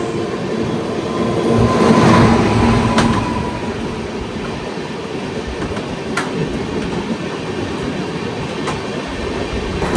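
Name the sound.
Saurashtra Express train passing, Porbandar–Dadar, old ICF rake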